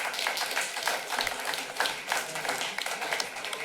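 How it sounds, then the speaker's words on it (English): An audience at a city council meeting applauds steadily, a dense even wash of many hands clapping at moderate distance, sustained throughout with no talk over it. "So let's hear a round of applause for Catherine Breed."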